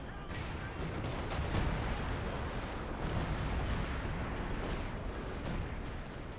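Creeping barrage artillery fire in Company of Heroes 2 pounds continuously, a dense wall of overlapping booms and rumbling blasts with no gaps, steady and loud throughout.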